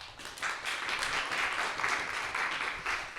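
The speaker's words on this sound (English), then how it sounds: "I invite you to give a big round of applause to our volunteers and theater staff" Steady applause from a crowd, a dense wash of clapping that holds at an even level for a few seconds without any voices.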